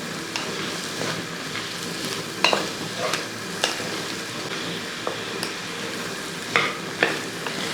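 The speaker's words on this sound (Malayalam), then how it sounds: "ഉപ്പ് പൊടിയും കൂടി ഇട്ടതിന് ശേഷം ഒന്ന് ഇളക്കി കൊടുക്കും" Sliced okra fries in a pan with salt and gets stirred, giving a continuous close sizzle broken by irregular scraping and clinking strokes of the spoon against the pan.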